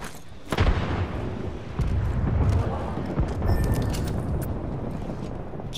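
Grenades go off in Apex Legends, a sharp blast followed by rumbling booms and scattered gunfire amid constant battle noise, with voices talking over it.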